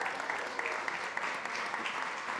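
Audience at a food summit session at SXSW applauding a panelist, a brief burst of steady, moderately distant clapping from a sizable crowd, fairly even throughout.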